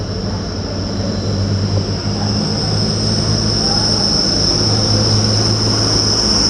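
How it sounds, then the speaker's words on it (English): A Grand Central Class 180 Adelante diesel unit pulls out of York station with a loud, steady engine drone and a high whine, rising slightly as it departs. "Departing now is in 1911 Grand Central service from Sunderland to London King's Cross."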